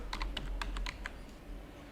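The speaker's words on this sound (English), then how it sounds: "then type the new name" Keystrokes on a computer keyboard, entering a new login name while setting up a SQL Server user account: a quick, close burst of about eight light clicks in the first second, then only faint room hiss.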